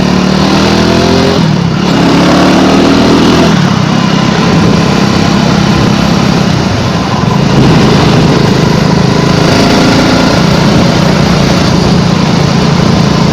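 A BSA 650 Gold Star motorcycle engine runs loud and close, a steady buzzing drone with brief dips and surges in revs, no voices over it.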